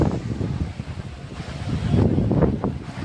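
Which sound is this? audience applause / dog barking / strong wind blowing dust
strong wind blowing dust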